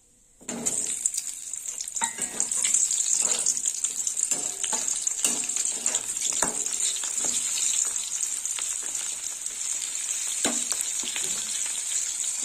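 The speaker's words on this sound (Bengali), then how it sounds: "ভাজা হোক পেঁয়াজটা একটু।" Quartered onions fry in hot oil with dried red chillies, bay leaf and cumin, giving a steady loud sizzle with scattered clatters and scrapes of stirring throughout, no talking.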